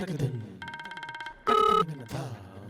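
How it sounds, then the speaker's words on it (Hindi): A telephone bell rings in a rapid repeated trill, then a brief sustained electronic tone, sandwiched between bits of conversation from people nearby. "ओए, लगता है तेरी सास का फोन है।"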